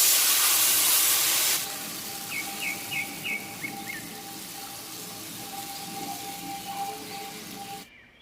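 Pangas fish with tamarind and slit green chillies hits hot mustard oil, a loud burst of sizzling that quickly settles into a softer, steady crackle and hiss, with faint birds chirping in the background.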